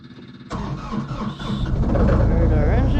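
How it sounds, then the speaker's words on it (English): A mini excavator's diesel engine cranks and catches at a winter pond job, a sudden loud start that builds into a steady, rising rumble close by. "Start our engine."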